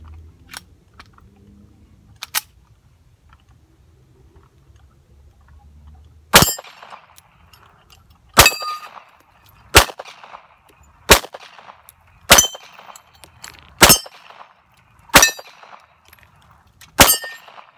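Eight sharp, loud gunshots from a KCI .45 ACP 1911 pistol loaded with an 8-round magazine ring out at a steady pace of roughly one every one to two seconds, each with a bright metallic crack and short echo, after a quiet lead-in.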